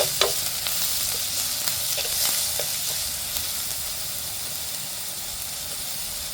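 Green chillies, ginger and garlic fry in a hot pan with a steady, close sizzle and hiss, broken by occasional stirring clinks and scrapes.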